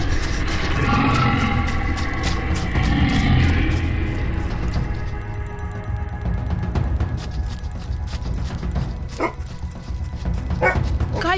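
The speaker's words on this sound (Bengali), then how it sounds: "এটা সেই কুকুরটা না?" A dog barks and yelps repeatedly amid a dramatized horror audio story, loud and close at first, then fainter whimpering yips later, mixed with background effects.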